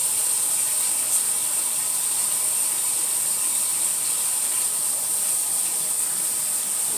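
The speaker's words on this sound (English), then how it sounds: "Get a little bit of soap, wash my hands up." Steady hissing of running water while hands are washed with soap at a kitchen sink, an even rushing spray with no break and no voices.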